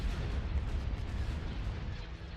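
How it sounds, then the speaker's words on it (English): A hypervelocity cannon fires during a shipyard raid in a Star Wars space strategy game, heard as a dense, continuous roar of heavy booming blasts and rumble with no talk. "Hypervelocity cannon firing."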